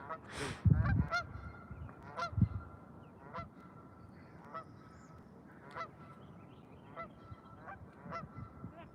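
Geese honking repeatedly at a distance, with a louder burst of honks early on, then steady scattered calls over an outdoor background.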